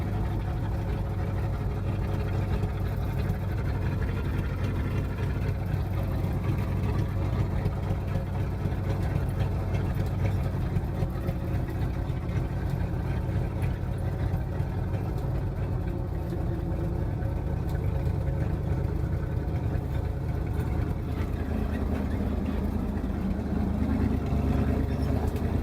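An old yard truck's engine idles steadily after a cold start, a constant low rumbling drone close by that holds for the whole stretch without speech.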